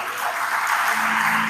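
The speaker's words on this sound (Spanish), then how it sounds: "Dale un aplauso al Señor." Church congregation applauding the Lord, a brief, steady wash of many hands clapping in a reverberant hall.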